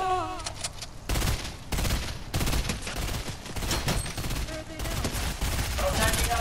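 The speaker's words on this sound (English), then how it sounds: "I hear shots." Gunshots in Fortnite Chapter 2 Season 1, loud bursts of rapid fire broken by brief pauses, with a few game sound effects mixed in.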